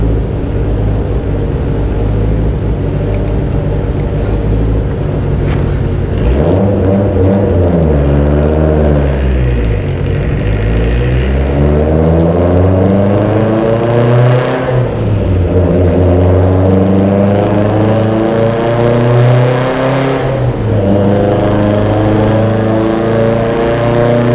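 A Mitsubishi Evo X with a sleeved 2.0-litre engine and Precision 6870 Sidewinder turbo kit revs hard under power, its loud engine note sweeping up and down in repeated pulls with a steady, droning tone throughout, no talking.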